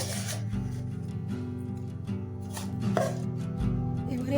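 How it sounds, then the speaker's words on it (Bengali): A knife chops repeatedly through a hard, set block of jaggery (palm sugar), giving a steady run of close, loud scraping cuts with no talking. "এইভাবে ছুরি দিয়ে কেটে নিতে হবে শক্ত হয়ে গেছে গুড়টা"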